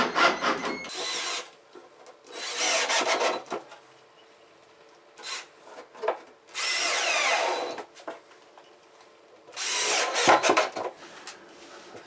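A power drill drives screws into a plywood pipe-boxing panel in four loud, close bursts of whirring and grinding, separated by quieter pauses.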